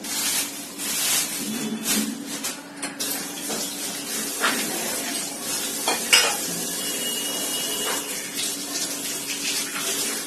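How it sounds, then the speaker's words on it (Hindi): Mutton nihari cooking in a pot in a home kitchen: steady bubbling, sizzling and stirring with occasional clinks and scrapes, close and continuous for the whole stretch with no talking. "मटन निहारी बन रहा है"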